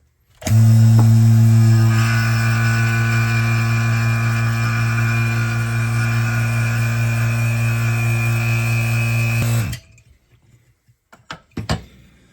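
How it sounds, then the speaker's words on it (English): A vacuum switches on to form a foam holster insert for a 1911, a loud steady motor hum with a constant drone that runs about nine seconds, then cuts off, followed by a few faint clicks and knocks. "once we take the foam, set it on top, use the frame, turn the vacuum on"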